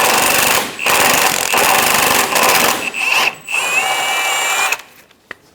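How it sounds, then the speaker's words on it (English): Power tool spinning off a control arm bushing bolt on a 2003-2007 Honda Accord, loud close bursts of rattling impact with brief gaps, then a short whine before it cuts out to near silence. "Using a 19mm socket, remove the front bolt for the control arm bushing."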